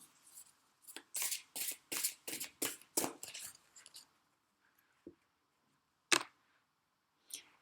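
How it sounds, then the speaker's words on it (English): A deck of tarot and oracle cards is shuffled close by in quick bursts of riffling and slapping, then falls mostly quiet with a few scattered soft clicks and taps. "Let's mix the cards and get an example of a card from this one."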